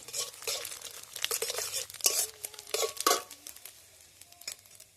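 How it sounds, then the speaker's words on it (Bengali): Cumin seeds and a dried red chilli fry in hot oil in a pan, crackling and spattering in quick bursts with stirring scrapes, loud and close, then easing off toward the end. "আর দেব কিছুটা জিরে একটু ভেজে"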